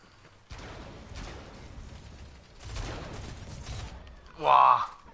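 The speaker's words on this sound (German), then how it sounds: "Goldene Kanone eingesetzt." A golden cannon fires in a video game: several rumbling booms roll through, ending in one loud, sharp, ringing blast.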